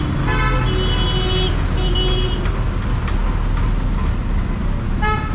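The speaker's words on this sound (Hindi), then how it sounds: "यहाँ बहुत ट्रैफिक होता है" Busy street traffic on Mall Road in Solan's Upper Bazar, with engines rumbling close by and car horns tooting repeatedly in short bursts, several overlapping at the start and again near the end.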